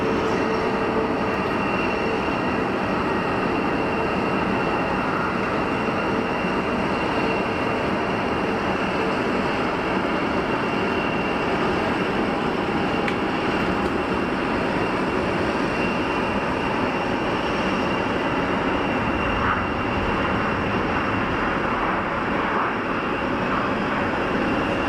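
A Wizz Air A320neo airliner passes at Geneva Airport with a steady, even broadband roar that stays fairly subdued and constant throughout, without sharp peaks.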